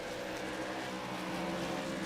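Race car engine heard on board Austin Call's car during a heat race at the AIRL Mardon Showdown at Five Flags, a steady, loud, continuous drone with no pauses throughout.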